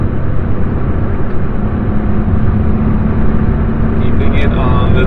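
A Peugeot 406 coupe V6 engine pulls steadily under throttle through a corner, a loud, sustained drone with road noise; someone talks over it.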